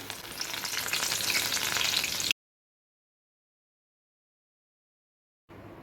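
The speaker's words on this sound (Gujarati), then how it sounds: "એ જ રીતે આપણે અહીંયા ફુદીનાને પણ ફ્રાય કરી લઈશું" Mint leaves fry in hot oil for a panipuri-flavoured puffed rice snack, giving a dense, close, crackling sizzle that cuts off abruptly and then returns briefly after a pause of silence.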